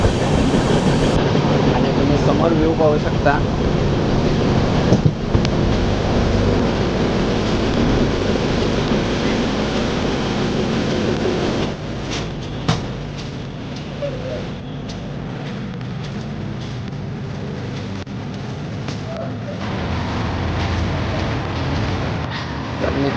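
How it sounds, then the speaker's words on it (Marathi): A train pulls out of Miraj station bound for Bangalore, heard from inside a B1 coach as a loud steady rumble with rattling and clicking of the wagon, while someone talks over it. "आपली ट्रेन निघाली आहे मिरजमधून"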